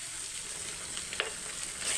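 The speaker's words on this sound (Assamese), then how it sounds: "পিঁয়াজখিনি ৰঙা হোৱালৈকে খুব ধুনীয়াকৈ ভাজি ল'ম" Onions fry in a pan with a steady close sizzle and crackle, a few brief stirring scrapes rising out of the hiss, with no talking.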